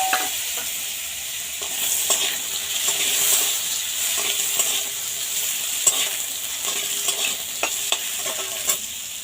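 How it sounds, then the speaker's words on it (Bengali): Thin slivers of a medium potato fry in leftover fish oil from tangra fish, a steady close sizzle with scraping stir strokes and light clatter throughout, no voices. "এই মাছের তেলেই আমি সরু সরু করে একটা মিডিয়াম সাইজের আলু কেটে নিয়েছি,"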